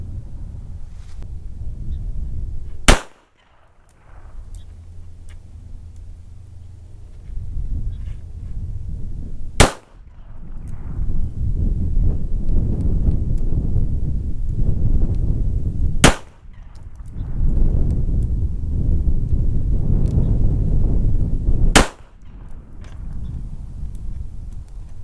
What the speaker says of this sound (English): see how well the Kimber groups with 6 rounds of 38 Special Fiocchi ammo, again at 20 yards